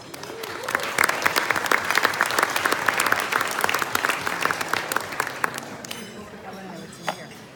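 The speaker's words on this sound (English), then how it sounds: "a round of applause to our sponsors" Steady applause fills a luncheon room for the event's sponsors, many hands clapping densely and evenly for several seconds before thinning out, with some talk mixed in.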